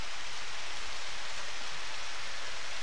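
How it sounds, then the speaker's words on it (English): Steady rain falls in the Harvest Moon farming game, a broad even hiss of drops with no voices over it, holding at a constant level throughout. "since it's raining"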